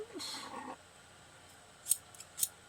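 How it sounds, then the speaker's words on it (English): Two short, crisp snips of large fabric scissors cutting thread cut through near-silence, following a brief stretch of soft handling noise. "I'm going to cut this thread with my mother's fabric scissors"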